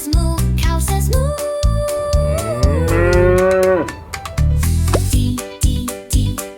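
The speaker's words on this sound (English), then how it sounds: "C is for cow, cow says moo, cow says moo." A cow gives a long, loud, drawn-out moo that rises and falls, set over a bouncy children's farm-animal song with steady music underneath.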